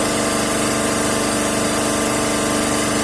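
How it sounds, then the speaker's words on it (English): A compound motor driving a three-phase alternator hums steadily and loudly under test, its continuous machine drone holding close and even throughout with no voices. "I will vary the rheostat in the field circuit of compound motor, and the speed is now increasing slowly"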